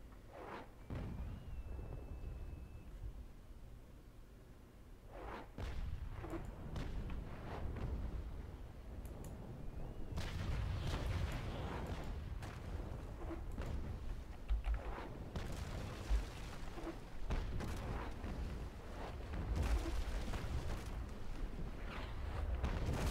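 Ship cannon fire in the naval combat game Naval Action, with repeated deep booms and rumbling blasts, some clustered in volleys, over a continuous background roar of sea and wind, moderately loud and distant.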